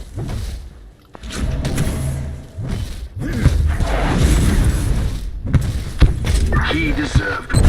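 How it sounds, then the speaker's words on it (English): Explosions in the video game Warhammer 40k Inquisitor: several heavy booming thuds and whooshes rolling through the scene, with a person talking over the action. "Oop, I took a hit from the explosion."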